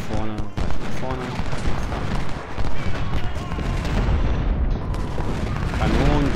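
Cannon and massed gunfire boom and crackle in repeated dense volleys in the Civil War battle game Ultimate General: Civil War at Cold Harbor, loud and continuous, with brief speech at the start and end.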